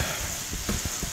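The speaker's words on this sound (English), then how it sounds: "See that that's sizzling." Paprika-sprinkled food sizzling in a hot pan in a smokehouse kitchen, a short burst of continuous hiss with a few soft pops.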